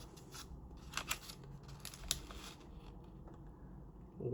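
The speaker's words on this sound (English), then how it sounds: "I'll go ahead and fold that down." A two-dollar paper bill is folded in half and creased by hand, giving soft, close rustles and a few crisp crinkling snaps over a quiet background hiss.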